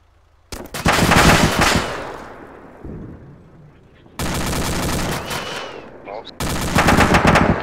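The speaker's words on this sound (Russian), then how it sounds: "По моему месту стреляет, где я сидел." Automatic gunfire in the military shooter ArmA 2 with the ACE mod: loud, close bursts of rapid shots separated by short lulls with fading echoes, with no talk over the bursts.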